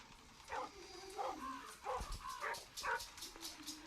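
A dog barks and yips inside a horror video game, the barks faint and muffled in the background over a steady noisy bed, repeating several times at irregular intervals.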